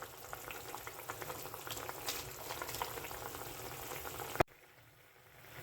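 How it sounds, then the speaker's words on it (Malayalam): Kerala-style prawn and mango curry boils steadily in a pan with a close, continuous bubbling and sizzling hiss that stops abruptly after a sharp knock. "ഇപ്പം നന്നായിട്ട് തിളച്ച് വന്നിട്ടുണ്ട്"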